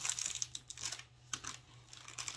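A paper popcorn bag in a craft project is folded down and sealed with a tape runner, producing close, quiet crinkles and crisp rustles with a few short clicks in a brief burst.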